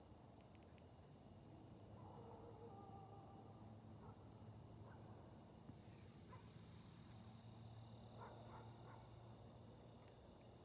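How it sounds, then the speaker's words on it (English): A frog croaks faintly several times at night near the woods, a few scattered calls under a constant high-pitched drone of crickets and insects. "There's a frog."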